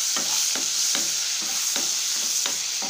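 Onion, garlic and tomato sautéing in butter and oil, with a constant bright sizzle and regular scraping stirs of a spoon in the pan, close and clear, no voices.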